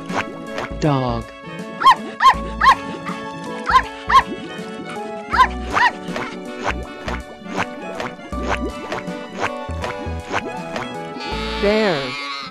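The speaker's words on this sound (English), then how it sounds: "dog." Dog barks ring out in a quick run of sharp, evenly spaced yaps over a bouncy cartoon music track, loud and close, ending in a brief noisy swish.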